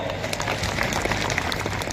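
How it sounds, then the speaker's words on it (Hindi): A crowd gathered for a tribal day speech breaks into dense, continuous applause, with a rapid patter of many hands clapping at a fairly distant, even level. "उन ड्राइवर भाइयों के तालियां बजाई दोस्तों"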